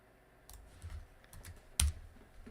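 Typing on a computer keyboard nearby: a few soft, scattered key taps, then one sharper, louder click near the end, with no voices.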